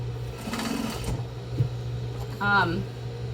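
A sewing machine backstitches the casing of a box-style fabric face mask, with short whirring bursts of stitching close by, interrupted by pauses, while a person talks over it.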